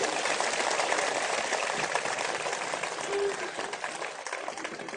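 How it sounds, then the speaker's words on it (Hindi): An audience at a public gathering applauds to honour the chief guest, with dense, sustained clapping from many hands at steady loudness through the whole stretch, along with faint crowd noise. "मुख्य अतिथि के रूप जोरदार तालियों से सम्मान होना चाहिए"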